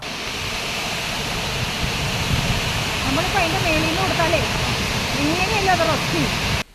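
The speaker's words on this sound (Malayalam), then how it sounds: "നമ്പർ ഗേറ്റ് 20 സെന്റിമീറ്റർ ഉയർത്തി 11 ക്യൂമിക്സ് വെള്ളമാണ് പുറത്തേക്കൊഴുക്കുന്നത്." Water roars in a steady, loud rush from a raised gate of the Mattupetty dam, a constant broadband wash that runs under a voice talking over it.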